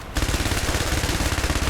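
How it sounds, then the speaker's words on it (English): Rapid, continuous video game gunfire with exploding bullets, a loud, dense rattle of shots that runs steadily with no pauses. "Those do not feel like exploding bullets."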